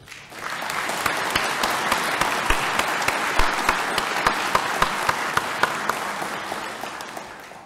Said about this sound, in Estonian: Aplaus meile kõigile selle eest.